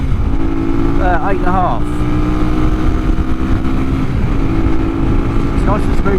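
An RS motorcycle engine drones continuously while riding, with a couple of quick rising revs early and another later, heard close over wind and brief talk.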